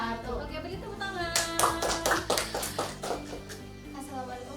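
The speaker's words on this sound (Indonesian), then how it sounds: "beri tepuk tangan." A short burst of hand clapping from a small group rises and fades, with a voice speaking over and around it.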